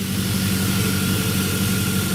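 A 2002 Chevy Silverado 5.3L V8 with a misfire and poor idle runs loudly right after starting, a dense, steady engine roar held close and unbroken throughout.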